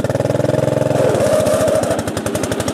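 A racing lawn tractor's engine runs hard in fifth gear, a loud, steady buzzing drone with a rapid pulsing beat that holds close and constant throughout, with no talking over it.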